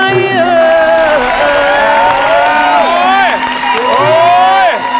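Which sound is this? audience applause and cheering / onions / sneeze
audience applause and cheering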